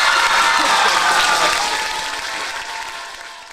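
Audience applause at a live Java Jive 2024 performance event, a dense broadband clapping that starts loud and gradually fades over a few seconds, with faint crowd noise and no clear talk.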